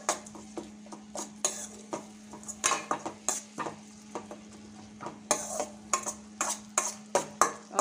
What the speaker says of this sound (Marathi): आता आपण छान शिजवून घेऊया, 2 मिनिट कंटिन्यू फिरवत राहायचं आहे।